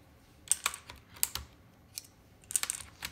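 Keycaps are pried off a computer keyboard, making sharp plastic clicks and snaps in irregular bursts, close and alone with no talking.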